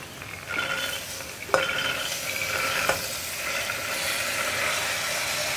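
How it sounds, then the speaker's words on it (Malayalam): Green peas stirred into sautéed tomato in a pressure cooker, a continuous close sizzle with scraping stirs and a couple of sharp clinks of a spoon against the pot, no talking. "ഇനി നമുക്കിതിലേക്ക് നമ്മുടെ ഗ്രീൻ പീസ് ചേർത്ത് കൊടുക്കാം"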